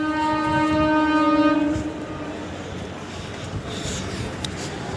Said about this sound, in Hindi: सब ये है अपना बल्लभगढ़ रेलवे स्टेशन।